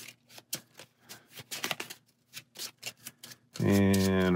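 A deck of Marvel Champions cards being shuffled at the tabletop, a run of quick papery riffles and snaps heard up close, followed by a louder burst at the end.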